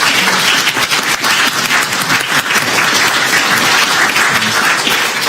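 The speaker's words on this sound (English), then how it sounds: "let's give Mr. Peppler a round of applause again" Sustained applause from an audience at a talk by photographer Jim Peppler on his Southern Courier collection, dense steady clapping filling the whole stretch with no voices on top.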